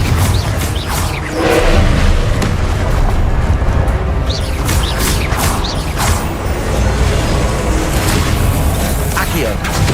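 Repeated Confringo fire spell explosions in the Hogwarts Legacy video game, loud booming bursts and crackling impacts layered with mechanical clatter while a voice talks over the action.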